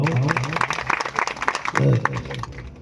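A crowd at a gathering of saints in Visnagar claps in welcome, the applause rising and falling across the clip alongside talk.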